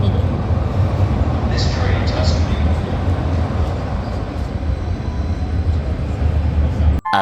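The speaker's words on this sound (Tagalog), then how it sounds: "So, sakay na muna tayo ng train. Ayan na, train natin." A commuter train pulls into a station in Canada, a loud continuous low rumble and roar of the cars with brief high brake squeals, ending abruptly.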